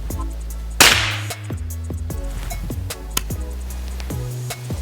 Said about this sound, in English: these pellet guns are usually really loud too